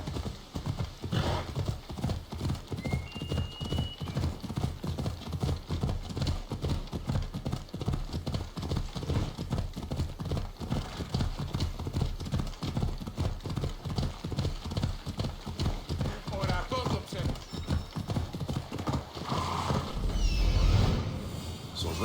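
Horse hooves galloping in the Assassin's Creed Odyssey video game, a steady rapid clip-clop rhythm running nonstop and close, with a brief whinny and some talk near the end.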